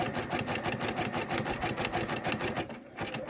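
A sewing machine runs a long zigzag stitch over rope laid along a quilt edge, its needle hammering in a fast, steady mechanical rhythm close up, easing briefly near the end before picking up again.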